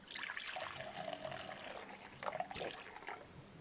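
Water pours and splashes close by in a soft, continuous patter that resembles rainfall, briefly growing louder near the end.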